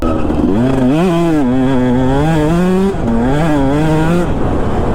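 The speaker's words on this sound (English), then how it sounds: "Couple of KTM two-strokes learning some jumps." KTM two-stroke dirt bikes revving hard while riding jumps, a loud buzzing engine that rises and falls through quick throttle blips and a brief drop near the middle, close by and alone.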